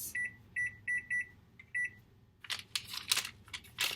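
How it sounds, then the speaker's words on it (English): A kitchen timer being set in a home kitchen during cookie baking gives a series of short electronic beeps, then rustling and clattering handling noises follow with no talk. "we're going to set a timer for 10 minutes"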